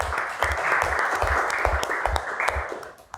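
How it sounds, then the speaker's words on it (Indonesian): Applause from a seminar audience at the close of a session about contrarian thinking in crypto markets, a steady wash of many hands clapping with periodic low thumps, fading out at the very end. "Kasih tepuk tangan dulu untuk semuanya."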